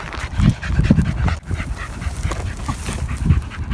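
Dog panting outdoors on a marsh walk, quick rhythmic breaths close to the microphone over a breezy background, with a few louder gusts of breath and no speech.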